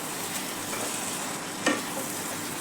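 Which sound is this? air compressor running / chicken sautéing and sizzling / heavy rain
chicken sautéing and sizzling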